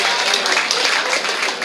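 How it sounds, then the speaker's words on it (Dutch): Applause from the crowd at a football club's player-of-the-year award ceremony, a dense burst of clapping that holds steady and fairly loud for its short length, with no voices over it. "applaus voor Arend"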